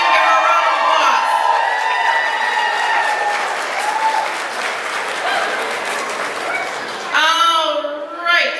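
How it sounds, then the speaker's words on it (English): Loud applause with cheers and children's shouts fills an audience at a pin-up pageant crowning ceremony, steady throughout, with a burst of whoops near the end over a reverberant hall. "Give her a round of applause."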